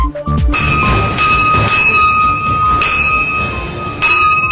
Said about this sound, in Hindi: जबलपुर के राम सीता मंदिर में घंटी बजाती ये सरोज कांडा है।